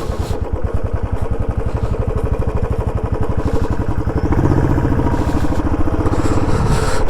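A motorcycle engine idles while stopped on a hill road between Manjoor and Kinnakorai near Ooty, a loud, close, steady throbbing chug that holds for the whole stretch with a slight shift in tone partway through.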